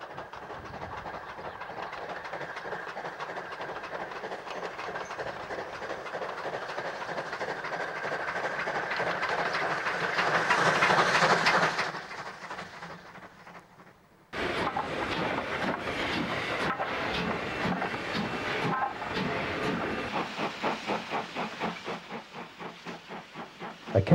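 NSW 59 class steam locomotive 5901 hauling a freight train, a steady loud rumble with hissing steam and rhythmic wheel clatter that drops away briefly before the heavy running noise returns.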